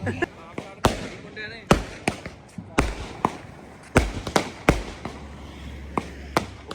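Sharp firecracker bangs pop one after another at irregular intervals at a wedding procession in Una, Himachal Pradesh, some close and loud, others fainter, over a low background murmur.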